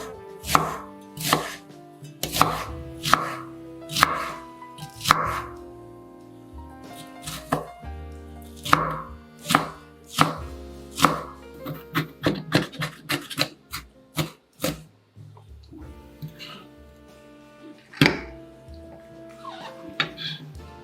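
A knife chopping a quarter onion on a cutting board, close and crisp, with a run of evenly spaced chops that speeds into a rapid flurry, then slows to a few scattered strikes amid quiet gaps.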